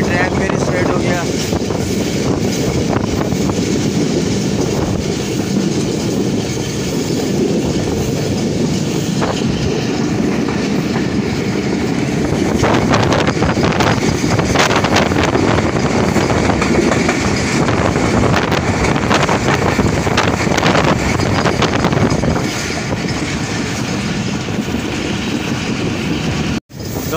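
The Rehman Baba Express, led by a GMU 30 locomotive between Rohri Junction and Karachi, roars loudly and continuously, with rhythmic clickety-clack from the wheels and occasional squeals over a heavy rumble.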